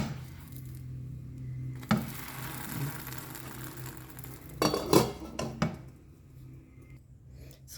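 Durian pancake being flipped in a pan, heard as clanks and scrapes of a utensil against the cookware with soft squishy patter, moderately close and fairly quiet.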